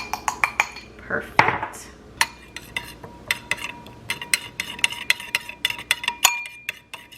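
A spoon scrapes and clinks against a bowl while mixing a scoop of spicy ramen seasoning into liquid, with a quick run of close, irregular metallic taps and a brief word spoken.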